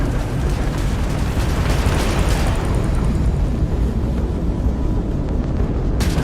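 Crimson Fleet ship weapons and explosions in a Starfield space battle, a dense continuous rumble of booming blasts with no talking.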